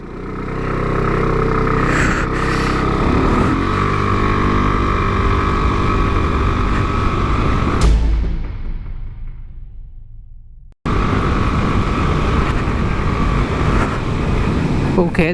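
A 2017 Aprilia SR 150 scooter engine drones loudly at speed with wind rush, the pitch shifting as it accelerates, then a sudden cut before the engine noise returns.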